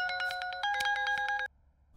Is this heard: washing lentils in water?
no